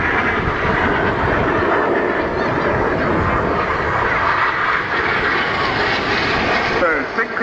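Red Arrows jets crossing close in front during a flying display at Bournemouth, a loud continuous roar sustained throughout with a slight swell, while voices talk over it.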